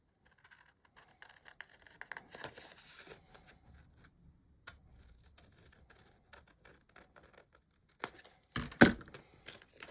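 Paper being cut with scissors while assembling a crafted recipe box, with sparse, faint snips and rustles early on and louder, denser cutting and paper handling near the end, without any talk.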